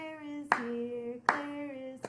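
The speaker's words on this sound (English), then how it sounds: "Let's all clap" A children's sensory storytime group at a library claps hands in sharp, separate claps spaced under a second apart, while an adult sings steadily over them.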